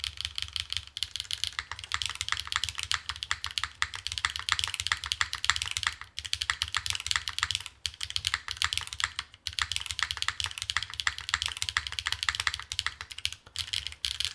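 Rapid clacky keystrokes on a mechanical keyboard with HMX tactile switches, fast and uneven in rhythm, with a few short pauses, and no speech.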